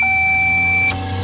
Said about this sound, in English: my truck has a chime to remind me that the headlights are on